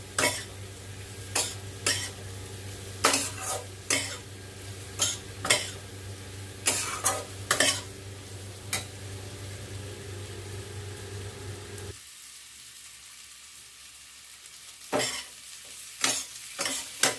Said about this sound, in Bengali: সব কটাকে ভালো করে মিশিয়ে দিই।